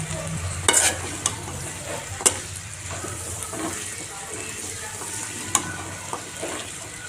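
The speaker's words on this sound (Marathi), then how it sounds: "छान असं एकदा मिक्स करून घेऊया आणि आपले चणे रेडी आहे खाण्यासाठी" Chickpea usal, a chana curry, stirred in a pan: sharp, irregular clinks and scrapes of a spoon against metal over a low, gentle sizzle, close and fairly quiet, with no voices.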